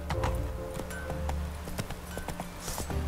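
Roach, the horse in The Witcher 3, gallops with rapid, rhythmic hoofbeats pounding close and clear over a low ambient game background.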